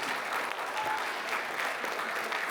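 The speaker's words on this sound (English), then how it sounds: "Give her a round of applause" Dense, steady applause from an audience at a voice-actor convention panel in Norman, Oklahoma, holding at an even level for the whole stretch with no gaps.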